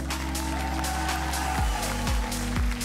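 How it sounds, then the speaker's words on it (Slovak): Audience at the Miss Universe Slovakia 2022 pageant applauding all the contestants, a steady dense wash of clapping under a sustained music bed with low thumping beats. "Ešte raz potlesk pre všetky dievčatá."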